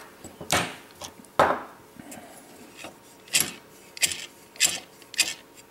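A broken-in bevel gear spun by hand gives several separate whirring, rasping bursts with short gaps between them, close and fairly loud.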